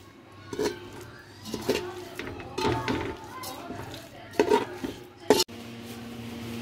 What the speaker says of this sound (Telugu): మొత్తం ఒకసారి మంచిగా మిక్స్ చేసుకోవాలండి